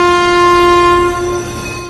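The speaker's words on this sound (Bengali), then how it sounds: "ট্রেন চলতে চলতে আবার ব্রেক দেয়।" Moving train braking, with a loud, steady tonal squeal ringing over the running rumble and easing off slightly near the end.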